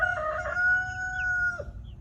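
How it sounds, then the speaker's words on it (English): A Lavender Orpington crows close by, one long drawn-out cock-a-doodle-doo that fades at the end, with a faint chirp from another bird in the background. "So we have a breed called Lavender Orpingtons"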